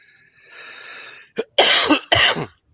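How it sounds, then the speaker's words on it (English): After a faint hiss, a person with something in their throat coughs three times in quick, harsh bursts, close and loud. "Y'all got to excuse this cough."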